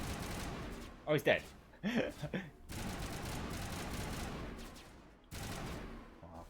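Sustained gunfire rattles in the sci-fi shooter Mass Effect Legendary Edition, continuous bursts running throughout, with someone briefly speaking over the shooting.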